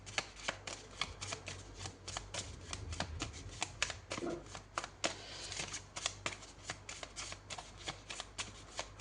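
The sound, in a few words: tarot cards being shuffled and drawn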